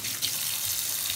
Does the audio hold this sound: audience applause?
no